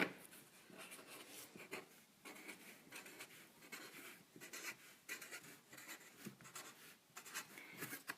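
A Sharpie marker writing on a wooden paint stick, close and quiet, with a series of short scratchy strokes and brief pauses between letters.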